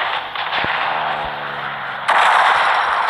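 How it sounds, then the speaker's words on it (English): Rapid gunfire and shotgun blasts from a war video game, a dense continuous barrage that grows louder partway through, with no talking. "I'm gonna try to kill a whole army with this shotgun."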